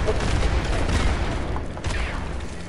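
A turret firing and blowing up in the artillery video game Worms WMD: a dense, continuous roar of blasts and shots that holds steady throughout, with a fresh burst near the end.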